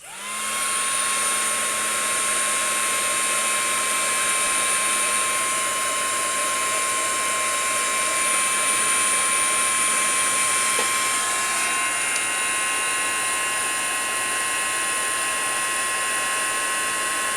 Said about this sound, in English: Now, I've never used a heating gun on paint before